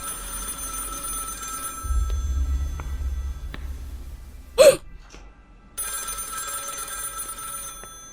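A telephone in the horror game Project Looking Glass rings in two bursts separated by a low rumble and a short sharp sound, then goes quiet.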